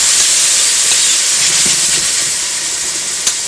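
Peeled, deveined shrimp hit a hot dry pan for Greek shrimp pasta, giving a loud, steady hissing sizzle close up, with a faint stir and a single clink near the end.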